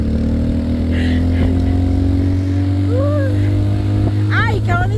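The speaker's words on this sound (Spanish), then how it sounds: "Ahora me quiere ir con él en la moto." A motorcycle ridden through Xela, Guatemala, hums with a steady, close engine drone throughout, with brief higher chirps and voices over it.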